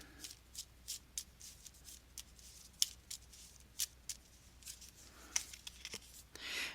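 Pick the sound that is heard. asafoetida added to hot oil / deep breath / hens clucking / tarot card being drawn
tarot card being drawn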